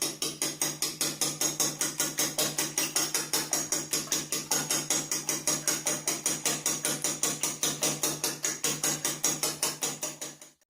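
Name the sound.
whisking egg wash with a whisk or fork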